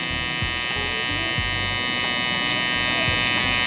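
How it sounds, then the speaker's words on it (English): An electric hair trimmer runs with a steady, close, high-pitched buzz through a self-administered taper cut, with faint low thumps as the flipped blade works through the hair. "I'm going to flip my trimmer like this."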